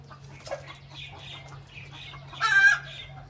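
Chickens cluck softly while feeding in the evening, with a louder burst of squawking near the end over a steady low hum.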